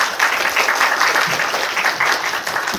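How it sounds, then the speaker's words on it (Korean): A forum audience at Sungkyul University claps loudly to welcome a speaker to the stage, a lively burst of many hands applauding close by for a few seconds. "나오실 때 큰 박수 부탁드리겠습니다"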